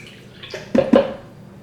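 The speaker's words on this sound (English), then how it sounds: "add water, and I'm gonna go cup by cup" Water poured from a cup onto lentils in a pot makes a short burst of close splashing and gurgling that rises sharply and fades within about a second.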